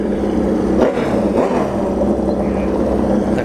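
Custom Kawasaki and Suzuki drag racing motorcycles in a pro cycle final at a bracket drag strip, engines roaring loud and steady with a rising whine, heard from nearby without talk.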